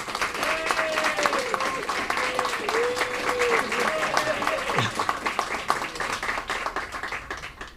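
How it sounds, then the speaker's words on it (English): A crowd claps steadily in dense applause at a Mind Sports Olympiad award ceremony while a voice talks over it, the clapping thinning out toward the end. "So a big round of applause to Mike Dixon."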